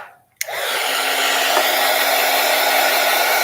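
A hair dryer switches on with a click and runs as a loud steady whooshing roar with a constant hum, drying an art project close by, with no voices.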